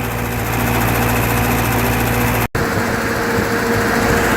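A 1941 Ford 9N industrial tractor idles steadily while warming up, a close, loud, even engine drone with a constant low hum and a brief dropout midway.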